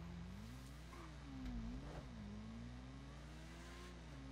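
Motorcycle engine in a GTA 5 race, revving steadily and loudly with rising and falling pitch swells, close up and continuous with no talk over it.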